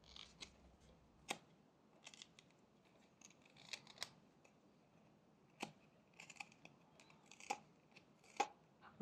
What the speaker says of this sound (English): I'm rounding the tips of the feet with these small push cuts